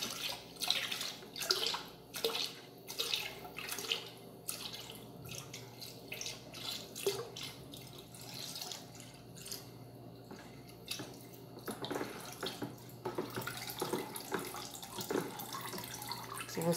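Homemade alcohol soap mixed with four liters of water being stirred in a container, giving steady sloshing, splashing liquid movement with rhythmic swirls and no talking.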